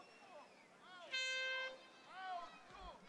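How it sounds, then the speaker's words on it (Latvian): At a rugby sevens match, the end-of-match signal sounds as one long, loud, steady horn tone, set between bursts of a commentator speaking. "Mēs dzirdam, ka noskan beigu signāls."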